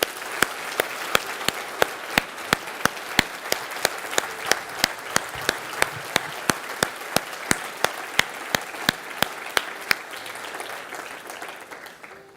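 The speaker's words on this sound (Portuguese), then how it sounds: "dando uma salva de palmas" A church audience claps steadily for a boy, sustained applause with sharp regular accents running for about ten seconds before fading out.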